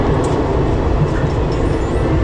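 An Indian passenger train rolls along, a loud, steady rumble and rattle heard up close from inside a carriage near the doors.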